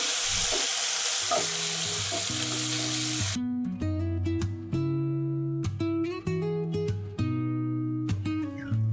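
Finely chopped tomato frying in a pan for Goan fish sukka: a loud, steady sizzle at first, then stirring scrapes over a sustained background of music notes.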